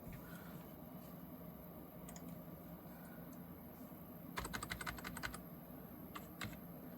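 Typing on a computer keyboard, brief runs of soft, quick key clicks over a faint, steady background hum, with a denser burst of keystrokes near the middle.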